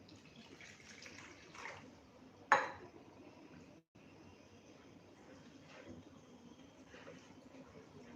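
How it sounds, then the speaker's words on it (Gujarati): Two cups of water are poured into a bowl of semolina and yogurt batter for sandwich dhokla, a steady wet splashing with one sharp clink of the cup against the bowl partway through. "અહીંયા આપણે 2 કપ ભરી અને પાણી નાખીશું."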